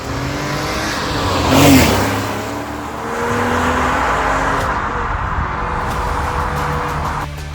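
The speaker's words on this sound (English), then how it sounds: "Even at idle, you can feel the power of the 6-cylinder Boxster engine with its characteristic sound." A Porsche Boxster 986 with a 2.7-litre six-cylinder engine revs loudly up from idle, the note swelling to a peak and then holding a steady, rising drone close by.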